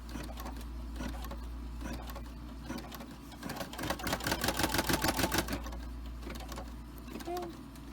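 An embroidery machine stitches an in-the-hoop doll house pillowcase design, its needle tapping out a fast, steady mechanical rhythm that swells louder midway over a constant low motor hum, then eases back.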